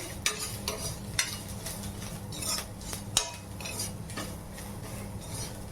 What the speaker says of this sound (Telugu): ఇలా వేసుకున్న తర్వాత సాల్ట్, పసుపు సో కలుపుకోండి